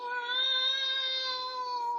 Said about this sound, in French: il y a un pauvre petit chat qui a besoin de nous